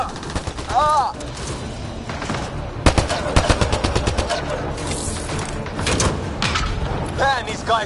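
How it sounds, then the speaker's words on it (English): Gunfire in the Mass Effect video game, with rapid bursts of shots, mechanical clatter and booms, loud and close, mixed with shouting voices and chaotic battle noise throughout. "Just keep firing, we can do this!"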